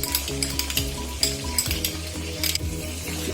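Chicken fries with garlic paste in a pan, a loud close sizzle with quick repeated scraping strokes of a spoon against the metal and a low steady hum underneath.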